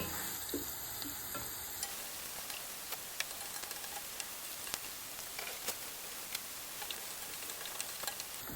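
Cardamom, cinnamon sticks and a bay leaf fry gently in hot oil, a soft steady sizzle with faint scattered ticks and crackles, quiet and close, with no talking.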